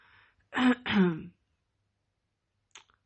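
An old Korean nobleman clears his throat twice in quick succession, a short gruff double rasp, followed by silence and a faint brief click.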